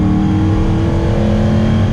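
A 1974 Alfa Romeo Montreal's Italian V8 revs loud and close, a dense, continuous engine roar with no voices over it.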